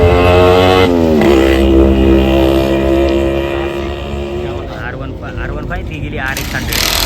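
A Yamaha R15 motorcycle revs loudly nearby and rides off, its engine note rising in pitch through a gear change and then fading into the distance.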